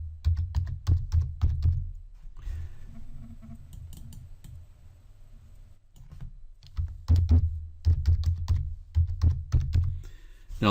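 Fingers type quickly on a computer keyboard while entering tags in PLC programming software, bursts of close, crisp key clicks separated by a short pause.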